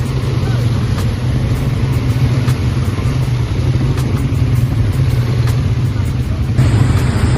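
A steady, loud engine drone runs throughout, consistent with an ATV revving nearby during a Bali trip, with a brief rise near the end; no speech is evident.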